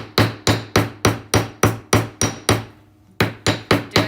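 A side hammer strikes a metal jewelry piece to texture it with lines, about a dozen loud, close, sharp metallic blows in a steady rhythm, with one brief pause partway through.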